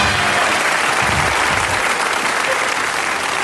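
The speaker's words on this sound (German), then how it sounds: "Viel Applaus." Dense, steady applause from a studio audience at a German television game show fills the whole stretch, loud and continuous with no speech over it.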